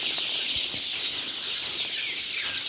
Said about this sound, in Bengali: আপনারা দেখেন সুন্দর সুন্দর ফার্মি মুরগি